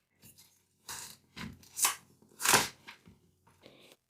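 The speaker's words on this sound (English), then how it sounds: "And now an eggplant. Just cut off the stem." A knife slices the stem off an eggplant on a cutting board, giving a few separate crisp cuts and scrapes spaced across a few seconds, close and fairly quiet with no talking.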